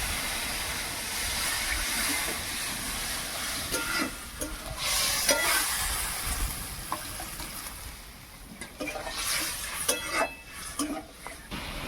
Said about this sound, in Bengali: এই মশলাটা একটু ভালোভাবে ফুটে যাবে